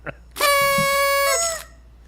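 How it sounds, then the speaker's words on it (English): A chicken gives one drawn-out, horn-like call lasting about a second, loud and close, following a short faint note. "Why doesn't the chicken sound as happy"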